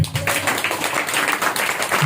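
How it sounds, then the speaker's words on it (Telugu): A church congregation at a Sunday worship service claps together, a brief dense patter of applause with a voice speaking at the start and end. "ఇప్పుడు కొట్టు చప్పట్లు"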